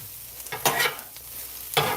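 Onions cooking down on a hot surface for a cheesesteak, with a close sizzle punctuated by a few sharp scraping turns of a spatula and no one talking.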